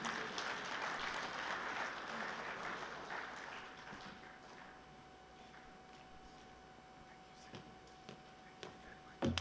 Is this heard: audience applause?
yes